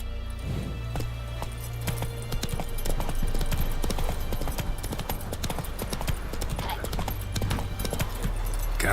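Horse hooves in The Witcher 3 clatter in a quick, steady gallop rhythm over a game soundscape, with an occasional snort or whinny mixed in.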